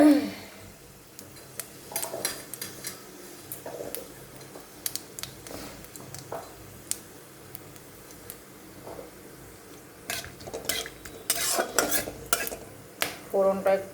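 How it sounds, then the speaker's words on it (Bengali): Cumin and whole garam masala tempering in hot oil for a Bengali dhokar dalna, a faint sizzle under scattered clinks and scrapes of a spoon against the pan that grow busier toward the end. "গরম মশলা ফোড়ন দিয়ে দিচ্ছি।"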